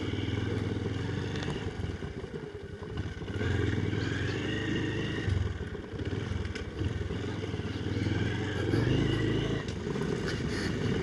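A Honda XR125L motorcycle engine runs steadily while riding off road along deeply rutted tracks, with a continuous mid-level drone that rises and falls slightly, accompanied by rattling clatter.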